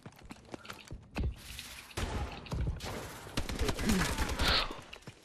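Rapid bursts of XMG gunfire in a Call of Duty-style multiplayer match, sharp cracking shots in uneven clusters, with other distant shots and game sounds mixed in.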